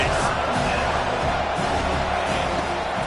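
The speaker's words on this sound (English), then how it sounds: "this crowd is tearing the lid off this place" Stadium crowd roaring at a college football game between Miami and Arizona, a broad, sustained wash of cheering noise with a play-by-play announcer talking over it.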